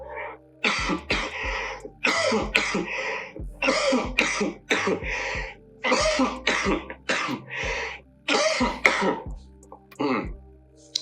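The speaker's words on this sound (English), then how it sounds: "Sorry, I need to cough." A person with a chest infection coughs repeatedly in a series of harsh bursts, close to the microphone, with brief pauses between.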